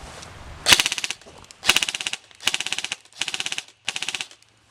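A KWA Kr12 airsoft rifle fires in full auto, five rapid bursts of fast rattling shots close up, each burst separated by short pauses.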